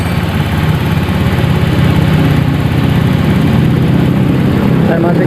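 Honda Beat FI scooter with a starting fault, its engine running in a workshop: a steady, loud idle drone that holds constant and close throughout, with no break.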